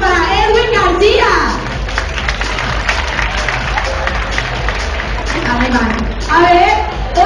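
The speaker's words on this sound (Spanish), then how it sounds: "Otro aplauso para Edwin García." An audience breaks into sustained clapping for a contestant at a live show, with busy, overlapping claps and a host's voice speaking over the applause at the start and end.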